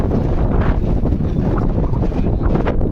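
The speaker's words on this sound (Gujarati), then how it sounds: "ઠંડો ઠંડો પવન આવે છે." Steady wind buffets the microphone with a loud, constant low rumble and roar that never lets up, outdoors on a hot 40°C day.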